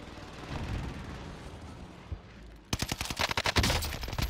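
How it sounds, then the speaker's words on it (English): Warzone battle gunfire: a distant muffled rumble of shots gives way to a sudden close burst of rapid automatic fire, sharp repeated cracks at a fast rhythm, loud and dominant. "We're taking fire!"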